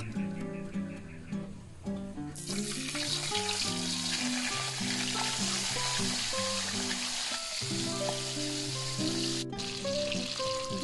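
Fish frying in a pan, with a loud, continuous sizzle that swells after the first couple of seconds and carries on steadily over background music.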